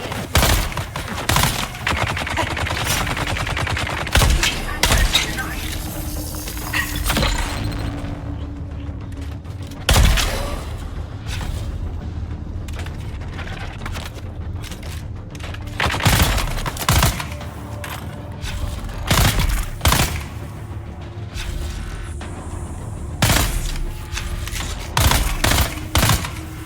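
Gunfire from weapons in Dune Awakening rings out in scattered sharp volleys, some rapid strings of shots and others single loud cracks spaced several seconds apart, close and punchy, with no speech.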